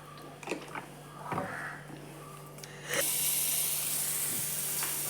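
Oil sizzles in a pan as mackerel fries, first faint with a few clinks and scrapes, then a louder steady hiss rising partway through.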